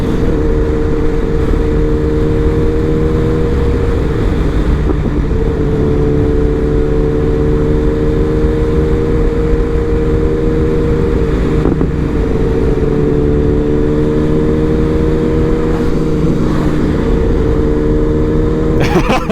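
BMW S1000RR motorcycle on a night ride, engine droning loudly and steadily with throttle opened, rising and falling slightly in pitch, with faint voices over the rider's intercom.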